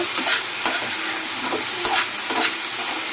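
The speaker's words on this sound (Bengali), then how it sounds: "এটাকে ফ্রাই করে নেব।" Chickpeas with capsicum, potato, green chilli and onion frying in a pan, a loud close sizzle broken by a few sharp stirring scrapes, no talk.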